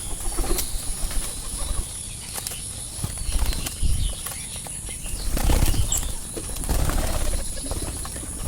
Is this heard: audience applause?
no